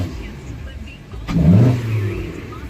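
A Hyundai Sonata fitted with a cold air intake idles low before a single sharp throttle blip brings a rising engine roar and intake rush, which then eases back toward idle, recorded close by.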